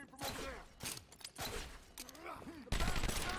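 Gunfire in the Batman Arkham Asylum video game, sharp bursts of shots in short clusters at a moderate distance, interleaved with in-game sounds and a louder final burst.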